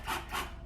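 A screw is turned into the pre-drilled wooden back of an art floating frame, giving a brief, close grinding rasp of wood friction that swells twice in quick succession.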